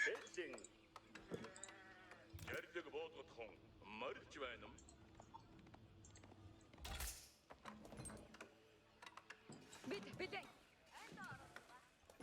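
Repeated sheep bleats in Age of Empires IV, a ranked Mongols vs Holy Roman Empire match, among game sounds, faint clicks and mechanical effects, with quiet talking underneath.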